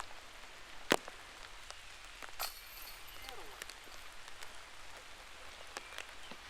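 Rain falling at an outdoor disc golf course, a soft steady hiss of drops on surfaces broken by a few sharper taps and knocks, faint and continuous with no voices.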